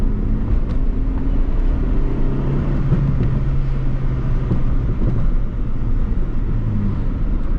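A 1991 Honda Civic decelerates in gear with a steady, loud low engine and road drone from inside the car, a faint whine laid over the rumble, and no voices.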